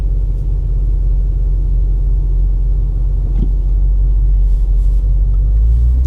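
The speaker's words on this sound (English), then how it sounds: "Oh, here comes a car though." A steady low rumble of a Bentley GT3R on the road, swelling slightly as it approaches and passes nearby, with no talking.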